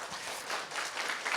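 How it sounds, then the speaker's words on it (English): A short burst of audience applause at an academic conference session, a brisk wash of many hands clapping at moderate level, heard briefly and alone. "let's give another round of applause"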